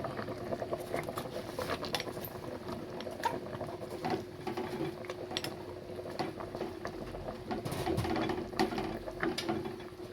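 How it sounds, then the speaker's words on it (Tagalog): Fish tinola soup bubbling in a pot, a steady close simmer with busy popping and pattering throughout, no voices. "Kumulo na po ang ating isda."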